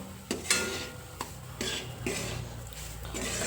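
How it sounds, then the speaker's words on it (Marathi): Semolina (rava) roasting in a pan for a sweet offering, with soft scraping stirs sweeping through it in repeated strokes over a low, steady background hum. "आता हा प्रसादासाठी ना रवा भाजत आहे"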